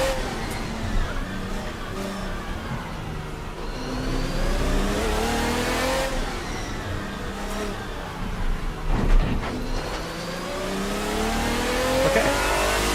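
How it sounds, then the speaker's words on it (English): A race car engine on a hot lap around the Adelaide circuit in Assetto Corsa, revving up through the gears with rising pitch sweeps and short drops at each shift, close and steady throughout. "And we have one more hot lap to really show what this car can do."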